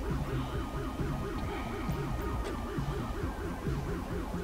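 A wailing police car siren in the video game LSPDFR cycles rapidly and continuously, loud and close, with a low engine hum beneath it.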